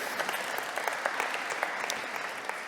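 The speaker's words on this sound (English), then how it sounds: "Please, a round of applause for them." An audience claps steadily at a conference opening ceremony, a dense, continuous patter of applause from a sizable crowd in a hall, moderately loud and unbroken.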